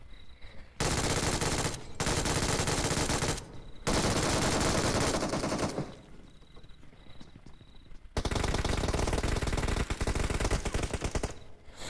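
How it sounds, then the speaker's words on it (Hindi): An MG3 machine gun in the PUBG video game fires long sustained automatic bursts, loud and close, separated by brief pauses, with a beeping game tone in one gap. "मेरे पास MG3 थी। मैं डायरेक्ट घुस गया फ्री फायर लेके"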